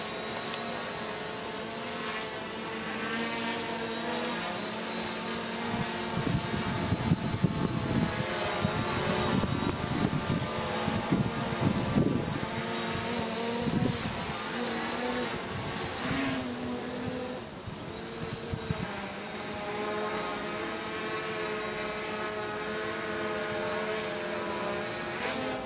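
A small MJX Bugs 4W GPS foldable quadcopter flies overhead outdoors, a steady buzzing whine of propellers with a louder gusty stretch in the middle, moderately faint and continuous with no talking.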